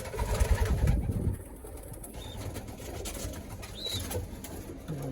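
Soft cooing of a red checker racing pigeon hen among young birds on a race team, several low murmuring coos over faint rustling and background noise.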